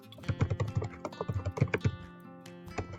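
Rapid clattering keystrokes on a computer keyboard, close and fairly loud, in uneven bursts with brief pauses, no voices over it.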